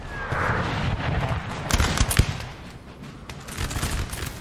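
Cannon and musket fire in a Napoleon: Total War battle recreating Borodino, with a dense, continuous rumble of distant volleys and booming artillery rolling together, a few heavier thuds standing out, loud and without talk.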